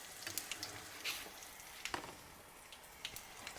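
Tempering spices sizzle in hot oil for a coriander chutney, a quiet, continuous frying hiss with scattered crisp pops and crackles, close up and free of talking.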